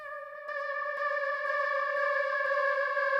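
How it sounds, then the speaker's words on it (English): A Roland Juno-Di synthesizer patch with a pitch envelope and LFO sustains a bright, buzzy tone that shifts at the start and then holds steady, with faint rhythmic pulses, solo. "I'm using the pitch envelope for that, and a bit of LFO, as you can hear at the start."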